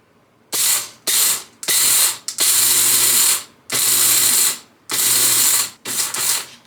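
An electric coffee grinder grinds coffee beans in a series of about seven loud, harsh whirring bursts, each lasting under a second to about a second, separated by short pauses.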